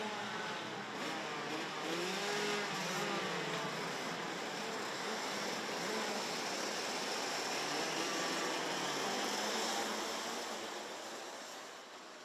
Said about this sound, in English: The revs start to rise.